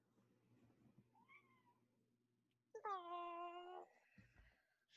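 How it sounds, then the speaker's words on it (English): A single cat lets out a clear, drawn-out meow with a rising and falling pitch, close and distinct, preceded by a faint brief chirp and followed by soft rustling and a low thump. "I heard a cat. Hi, kitty."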